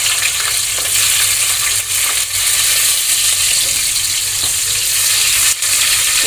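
Sliced onions hiss and sizzle in hot oil with cloves, shahi jeera and cinnamon in a pan for chicken biryani. The frying is loud, close and steady throughout, with a few faint clicks of stirring and no voices.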